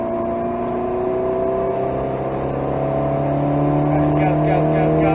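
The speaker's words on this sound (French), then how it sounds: "Allez, il nous laisse passer, on accélère à fond." Alpine A110S 292 hp race car under full-throttle acceleration on the Nogaro circuit, a loud, steady engine drone with rising harmonics throughout, close and continuous, with speech likely mixed underneath.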